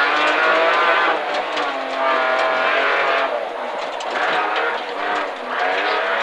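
Loud, close engines of race cars based on production models roar and rev continuously, the pitch surging and dipping as cars pass, with no talking.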